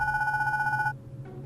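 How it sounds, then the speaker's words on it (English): A baby phone rings in the video game Goodbye Deponia with a steady electronic double-tone trill, clear and upfront, for about a second before cutting off into quiet room tone. "my baby phone's ringing"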